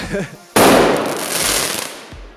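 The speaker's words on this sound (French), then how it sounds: "Heureusement, la grosse station de lancement, celle-là a fonctionné. C'était la grosse explosion." A large homemade fireworks launch station goes off in one loud, sudden broadband blast that decays into a long crackling roar. Brief speech-like sounds come just before it, and a thump follows near the end.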